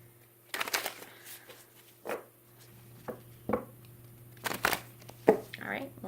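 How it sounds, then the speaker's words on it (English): Tarot cards being shuffled by hand come through in quick papery riffling bursts, several short flurries spread across the stretch, close by and moderately loud over a steady low electrical hum. "one more little shuffle"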